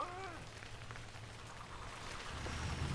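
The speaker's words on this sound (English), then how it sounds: "Out of the rain, out of the fog." Rain falls in the LEGO Harry Potter video game, a faint, steady patter and wash that continues throughout the short stretch, with no voices.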